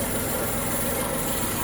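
A car engine idles with the air conditioner switched on, giving a steady, even hum and whir that holds at one level throughout with no voices.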